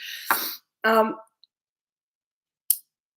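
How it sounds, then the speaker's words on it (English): A person coughs a couple of times up close, with a throaty rasp, followed by a sharp short click and silence. "You've got my sexy cough still."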